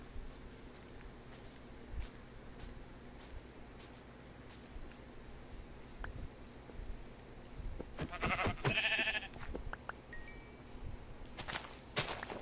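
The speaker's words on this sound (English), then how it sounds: "poor baby sheep" Baby sheep bleating in the video game Minecraft, a few short bleats around the middle of the clip over a quiet ambient background with faint game sounds.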